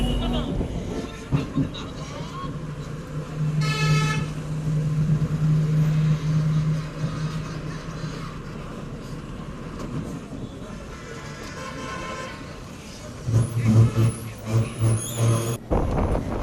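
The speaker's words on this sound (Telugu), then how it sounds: "పొగిరి నుండి మన బస్ తిరిగి బయలుదేరింది." An APSRTC bus pulls away from a village stop on a rural route near Srikakulam, its engine droning and rising in pitch with rumble, air-brake hiss and rattling bodywork. Voices come and go.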